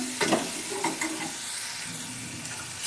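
Chilies for dal are stirred in a hot pan, giving a bright sizzle with a few quick scraping strokes near the start, then a steady hiss.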